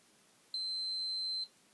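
A multimeter's continuity beep checks a circuit in a cheap LED lamp: one steady, clean high tone lasting about a second against a quiet background.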